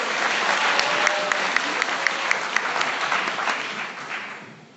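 Dense audience applause at a Korean showcase event, a steady wash of many hands clapping close and loud with a few sharper claps standing out, fading toward the end.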